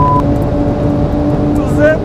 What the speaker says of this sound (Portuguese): O 911 parece que ele tá no meu colo aqui! Tanto que faz barulho!